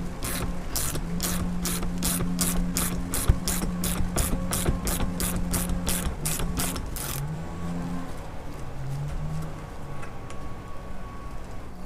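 A ratchet clicks rapidly and evenly for about seven seconds as a stiff bolt is loosened on the nose cone of a Toyota 5VZ-FE 3.4L V6 TRD supercharger, then stops, leaving faint mechanical handling noise.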